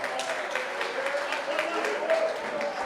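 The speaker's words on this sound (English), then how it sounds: "So you can clap for him one more time." Steady applause from a crowd at a charity golf day prize giving, many hands clapping together at a constant level, with faint voices mixed in underneath.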